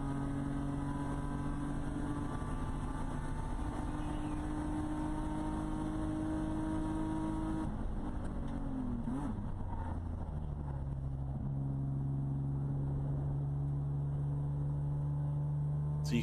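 Nissan 350Z race car engine heard onboard during a 2021 WRL race at Road America, a loud steady drone that drops in pitch as the car lifts off, then settles into a lower, sustained hum.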